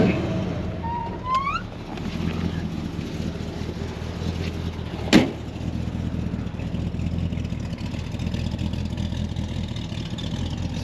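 A 1957 Chevy Bel Air engine idling with its exhaust running, a steady low rumble throughout, with a brief sharp click partway through and some faint background sounds.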